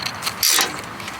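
A hand ratchet wrench works a rusty nut on a Bobcat machine, giving a short burst of bright, dry metallic clicking near the mic with light mechanical rattles around it.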